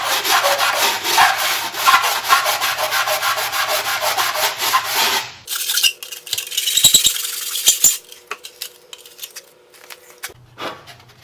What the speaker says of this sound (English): we'll take a sanding block to straighten the edges up a bit